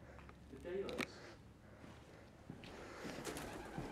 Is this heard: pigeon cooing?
yes